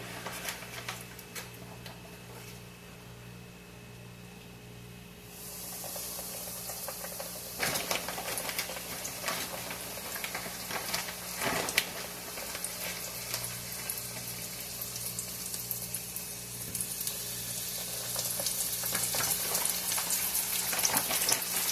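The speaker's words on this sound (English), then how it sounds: "it is time to fry up this perch" Perch fillets fry in a home kitchen pan with a soft, steady crackle and sizzle that grows slightly louder and denser partway through, alone without talk.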